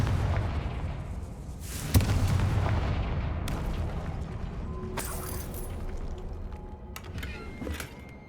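Confringo fire spells in Hogwarts Legacy set off a run of booming blasts and crackling bursts over a steady rumbling bed, with sharper hits near two and five seconds and no voices.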